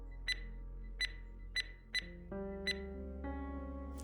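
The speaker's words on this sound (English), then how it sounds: "those beeps are pretty loud in this game" Five short, sharp electronic calculator beeps at a steady pace, loud and close, from the escape room mystery visual novel game Blankspace, over a low hum and sustained synth tones that swell midway.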